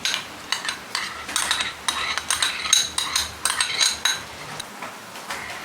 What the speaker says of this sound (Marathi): इथे मी दोन मोठे चमचे दही घेतलेलं आहे दही छान फेटून घ्यायचं आणि फ्रेश दही घ्यायचं आहे